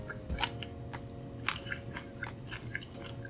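Crunchy shell-on shrimp being chewed close to the mic, with a run of crisp, irregular crunches and soft mouth clicks over a quiet, steady background.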